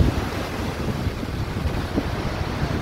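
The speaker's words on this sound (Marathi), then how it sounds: "तुम्ही बघू शकताय लाटा केवढ्या जोरात चालू आहेत" Strong sea waves surge and crash at Ganpatipule beach on the Konkan coast, a continuous loud roar of surf mixed with wind buffeting the microphone, with no voices.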